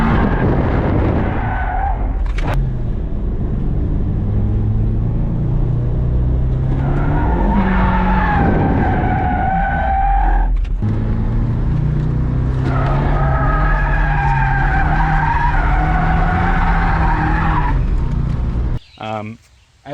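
A Toyota 86 and a Mazda Miata drifting for the first time: engines rev hard and tires squeal in long, loud screeches that rise and fall for most of the run, with voices faintly underneath.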